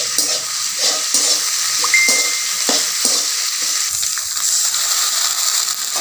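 Cumin, ginger and green chilli paste hitting a hot frying pan for an okra, potato and tomato dalna: a bright continuous sizzle with repeated scraping stirs and light clinks from a spoon against the pan.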